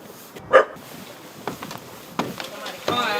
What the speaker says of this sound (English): I'm hearing another bark from over here. It's under those steps, I think.